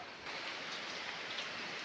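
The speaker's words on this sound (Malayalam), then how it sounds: "അതിഗംഭീരമായ സൂപ്പർ മഴയാണ് നമ്മൾ കണ്ടുകൊണ്ടിരിക്കുന്നത്" Heavy rain pours down in a dense, steady hiss, even and unbroken, with no voices.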